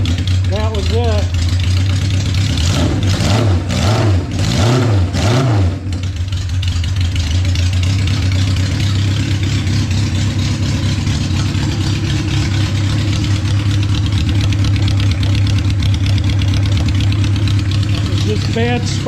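A 1972 Honda CB500 Four motorcycle engine fires up with a few rising revs early on, then settles into a steady, loud, rumbling idle close by for the remainder, without any talking.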